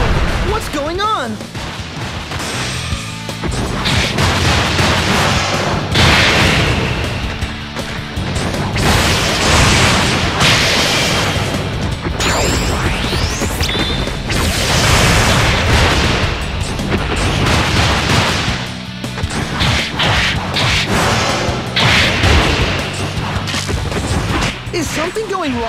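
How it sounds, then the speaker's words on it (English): Repeated heavy blasts and crashing booms from a dragon fire ability attack in the video game Bakugan: Defenders of the Core, loud and continuous over about 25 seconds, with shaking rumble and game voices talking over it. "Ability activate! Dragon fire!"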